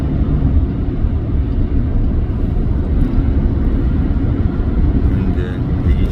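Hyundai Veracruz SUV with 370,000 km cruising at highway speed around 120–140 km/h in a road test, a steady loud engine and road rumble droning without letup, no voices.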